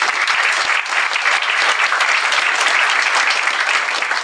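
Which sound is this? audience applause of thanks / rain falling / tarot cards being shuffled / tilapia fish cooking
audience applause of thanks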